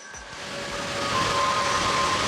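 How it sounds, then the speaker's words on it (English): Cooling fans on a Zotac RTX 3080 graphics card running hard under load, a steady broadband whoosh that swells slightly with a faint high whine over it, close and continuous. "The fans are trying to cool it down."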